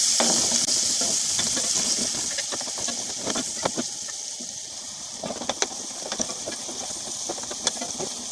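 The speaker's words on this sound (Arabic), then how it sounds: "احط البصلة اشوحها مع الزيت" Sliced onion sautéing in hot oil in a pan, making a steady close sizzle and hiss with scattered clicks and scrapes from stirring, alone with no voices.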